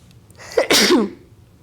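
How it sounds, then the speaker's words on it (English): A single sharp sneeze with a quick intake of breath before it, close and clear against a quiet background. "I'm going to sneeze here in 2 seconds"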